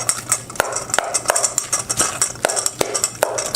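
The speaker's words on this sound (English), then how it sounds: "A little bit of chopping, a little bit of mushing." Repeated clinking and scraping of a utensil against a bowl in a quick, steady rhythm, close and fairly loud, as guacamole ingredients are mashed.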